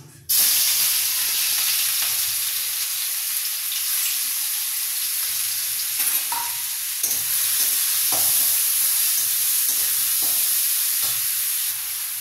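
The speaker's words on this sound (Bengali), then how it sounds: "তেল দিয়ে গরম করে নিলাম, পেঁয়াজ, আদা, রসুন, কাঁচা লঙ্কা কুচি দিয়ে দিলাম।" Chopped onion, ginger, garlic and green chili sizzling in hot oil in a pan for a Bengali fish ball curry, a loud steady frying hiss from start to finish broken by occasional stirring scrapes.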